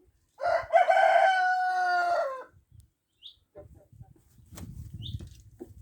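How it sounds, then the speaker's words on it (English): A Rhode Island Red rooster lets out one loud, close crow lasting about two seconds, followed by soft clucks and faint rustling. "Gonna crow too."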